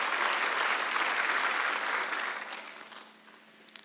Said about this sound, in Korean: 믿는 사람은 박수 한번 주세요.